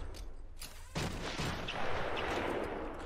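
Sniper gunfire in the video game Batman: Arkham Asylum, heard as a rough burst of shots and then a continuous rattling barrage at moderate level.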